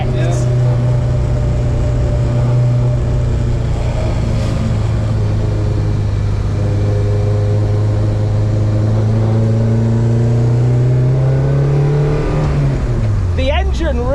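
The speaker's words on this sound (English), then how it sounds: "The engine really suits the character of the whole car." In-car engine sound of an Alfa Romeo fitted with a 260 hp Honda VTEC engine, driven on a public road: a loud, steady, droning engine note that holds, rises slightly, then drops off at the end, with people talking over it.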